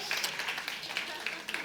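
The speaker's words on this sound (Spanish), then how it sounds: "Eso, aplauso." Brief scattered applause from a church audience, a few hands clapping unevenly at close range for about two seconds amid room murmur.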